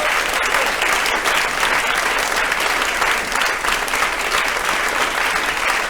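Dense, sustained applause from a studio audience at a talk show, loud and even with no breaks from start to finish.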